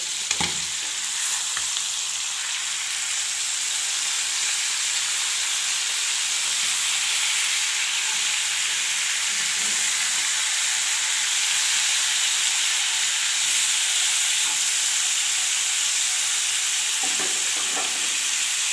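Chicken sizzling and frying on a hot tawa with yogurt masala poured over it: a steady, close, dense hiss and crackle of oil running unbroken throughout, with no talking.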